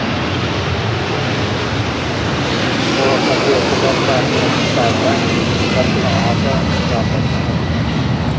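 A heavy Boeing 747 jet departs runway 25 Left at Los Angeles International Airport, a steady, loud broadband engine roar that swells slightly partway through and holds to the end, with faint voices underneath.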